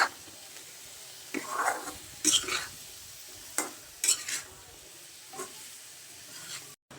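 Raw tomatoes fry with shrimp in a pan, heard as soft sizzling bursts and a few scraping stirs of a utensil against the pan between quiet gaps, close and fairly faint.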